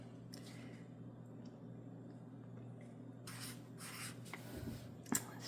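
Pen scratching on paper while writing in a gratitude journal: soft, close scribbling strokes over a steady low hum, turning brisker and louder toward the end with one sharper tap.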